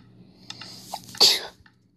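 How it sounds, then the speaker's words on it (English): A single sharp sneeze close up, preceded by a few small breathy sounds, with quiet afterwards. "Hopefully nobody heard me sneeze."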